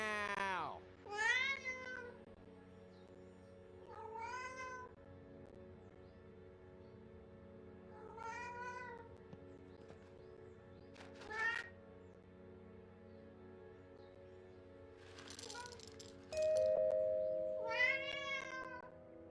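Cat meows from the Alfred Hitchcock Vertigo video game, several separate mews spread across the stretch, moderately loud over a steady low background hum.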